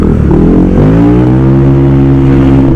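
Honda PCX 160 scooter with a bored-up engine revving loudly and steadily up close, its pitch climbing and holding at a high whine, with no talk.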